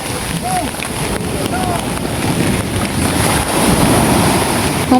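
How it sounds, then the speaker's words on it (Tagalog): Small sea waves washing near a wooden fishing boat, a steady windy surf hiss and splash close by, with wind buffeting the microphone throughout. "Mabuti ngayon po ay maliit ang alon."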